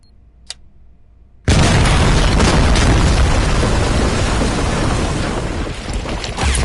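After a brief quiet moment with a single click, a bomb goes off in the video game RoboCop Rogue City, erupting into a loud, sustained roaring blast with rumbling debris that stays dense and powerful to the end.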